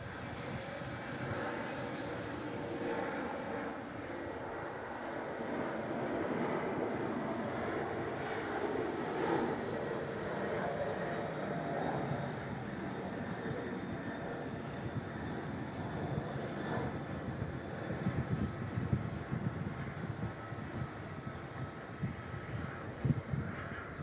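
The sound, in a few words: large jet airliner at Melbourne Airport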